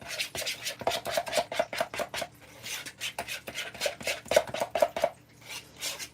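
Utensil scraping and clinking against a bowl while stirring a dip with garlic powder and salt, in quick repeated bursts of rhythmic strokes with brief pauses, close and fairly loud.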